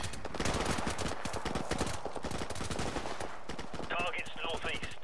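Call of Duty Modern Warfare Remastered gunfire, heard as dense, rapid automatic bursts that continue throughout, with a brief whine-like effect near the end.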